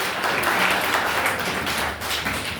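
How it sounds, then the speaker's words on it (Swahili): Church congregation clapping for the praise and worship team: thick, sustained applause from many hands, close and loud, fading slightly toward the end. "Tuwapigie kwa makofi."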